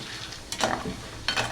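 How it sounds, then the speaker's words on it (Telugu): Peanuts and lentils fry in oil for kaaram boondi. Quiet, continuous bubbling is broken by two short bursts of stirring scrape and sizzle, heard close and with no talking. "ఇవన్నీ చక్కగా ఫ్రై చేసుకోవాలి మనం"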